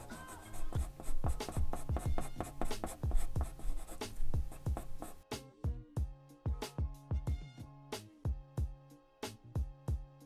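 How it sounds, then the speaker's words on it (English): A pencil draws hair strokes on paper, close up, in a steady string of short scratchy strokes. The first half sounds denser and rougher, and the second half has more spaced, crisp strokes. "And then you smudge again. And then draw again."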